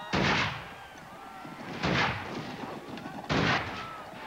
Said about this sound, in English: the soldiers opened fire